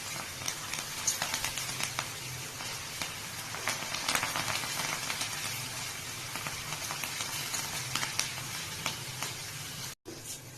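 Moong dal deep frying in a kadai of hot oil until crisp, a dense, even crackling sizzle with scattered spoon clicks throughout and a brief dropout near the end.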